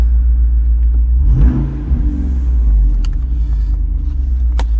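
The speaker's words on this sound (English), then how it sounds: "you press it and the performance muffler is off, performance exhaust on" A Jeep Wrangler Rubicon 392 with a 6.4L Hemi V8 and performance exhaust gives a deep, loud idling rumble, swelling briefly into a short rev before settling back to a steady growl.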